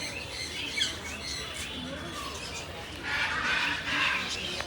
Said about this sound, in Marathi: तर बघा असं ओपन मध्ये आहेत सगळे पक्षी.